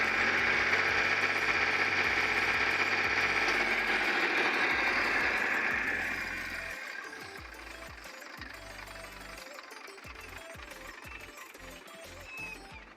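An old Mahindra tractor engine idles with a rapid, knocking diesel clatter, loud and close at first, then settling to a quieter, steady chug with the rhythmic beat still clear.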